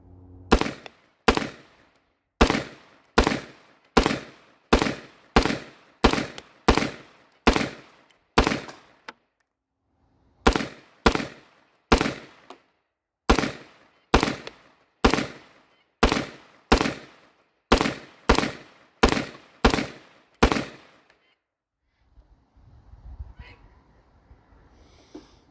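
A Wolf T91 rifle fires rounds downrange in two strings of evenly spaced, loud, sharp shots with a short pause between, followed by faint rustling.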